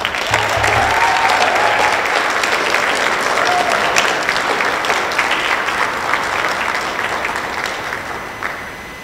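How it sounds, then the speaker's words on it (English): An audience claps at an MLK Day young scholars event in Norristown as Judge Gregory Scott is welcomed: dense, sustained applause from a large crowd that fades slightly near the end, with no speech. "Please give a round of applause for the Honorable Judge Gregory Scott."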